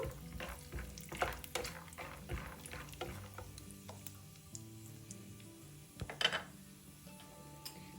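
Peanuts frying in hot oil in a small pan, with a quiet, steady sizzle broken by light stirring taps and clicks against the pan. A faint tonal hum runs underneath.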